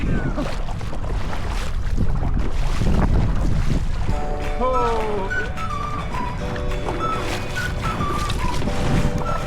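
Steady wind roars across open water while a SUP board is towed by canoe toward shore, a dense broadband rush with faint creaks and whistling tones drifting through the later part.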